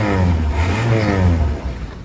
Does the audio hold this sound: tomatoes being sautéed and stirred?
no